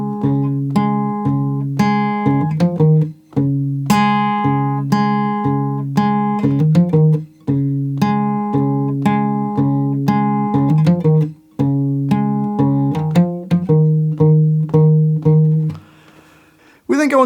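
Fingerpicked guitar plays the bass part of the chorus of a song, with steady plucked low notes under ringing higher strings in repeating phrases, close and clear with brief gaps, no talking.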